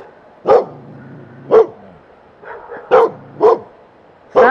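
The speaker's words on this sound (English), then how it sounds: "now you made the neighbor dog bark." A neighbor's dog barks in a regular series of sharp, clear barks with a few softer yips between them, fairly close and without talk.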